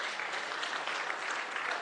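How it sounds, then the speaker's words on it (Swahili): A crowd at a public gathering applauds a committee, a brief burst of steady, dense clapping at moderate distance with no voices over it. "Simpigie makofi hii committee"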